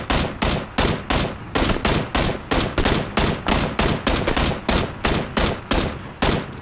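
Gunfire in the video game PUBG Battlegrounds, a long run of loud, evenly spaced sharp shots in rapid succession, close and dominant with no talking.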